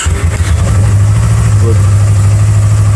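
A Yamaha MT25 motorcycle engine catches after a brief rough start and settles into a loud, close, steady idle with a deep, even throb.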